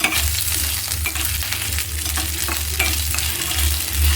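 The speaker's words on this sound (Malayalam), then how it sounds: "കുറച്ച് തേങ്ങാക്കൊത്തും കൂടെ ഇട്ട് നല്ലതുപോലെ ഒന്ന് മൂപ്പിച്ചെടുക്കാം" Coconut pieces, dried red chillies and mustard seeds frying in hot oil, a loud close crackling sizzle with scattered pops and a low burner rumble underneath, no voices.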